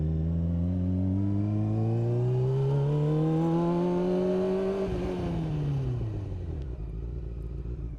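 A car pulls away and accelerates to about 30 mph, its engine note climbing steadily and loudly for several seconds, then dropping off sharply as the driver lifts and brakes. Close and clear, with no voices.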